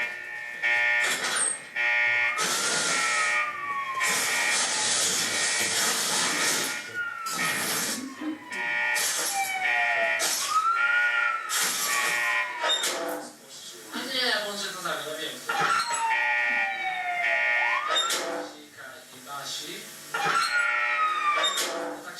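A fire station alarm in a Polish fire station, harsh buzzing blasts alternating with rising and falling siren-like wails, loud and repeated, with animated voices talking over and between the blasts.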